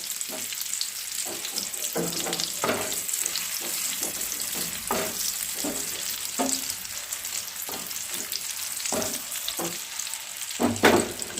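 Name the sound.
banana flower and egg fritters shallow frying in oil on nonstick pan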